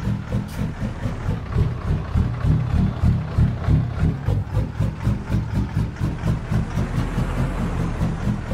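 A diesel 18-wheeler engine from Jesse's Amateur Engine Pack idles in a realistic truck driving simulator, a steady low rumble with a regular pulsing throb throughout, close and moderately loud with no talk.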